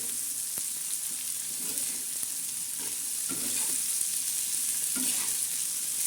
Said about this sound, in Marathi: आता हे छान असं आपण मस्त परतावलेलं आहे बोंबील आणि कांदा लाल झालेला आहे